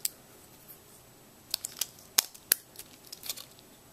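Pliers pull soldered rail joiners off model railroad track, a run of sharp metallic clicks and snips, close and crisp over near silence, about half a dozen distinct ticks.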